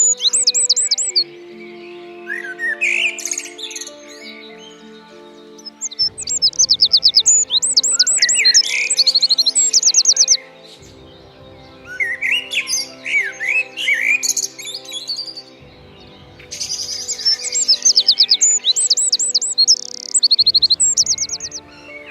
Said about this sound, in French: Conclusion, c'est un merle blanc.